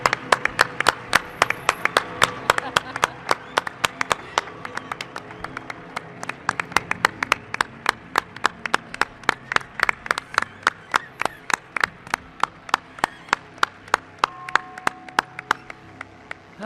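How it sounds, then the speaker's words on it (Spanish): A live audience at a radio show recorded in Mérida applauds for guest Santiago Camacho, with sharp, distinct claps in a fast, steady rhythm, fairly close and sustained for the whole stretch with only a slight easing near the end. "Quiero un aplauso para él."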